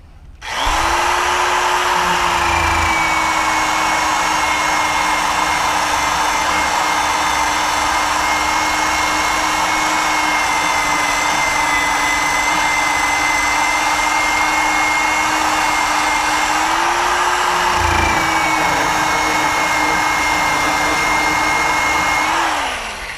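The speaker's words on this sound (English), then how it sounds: "So I'm gonna plug in this drill and see what I can do." An electric drill works at removing badges and adhesive from a Buick Regal's body, a loud, continuous whine held close for over twenty seconds, pitch dipping slightly midway and recovering, with no voices.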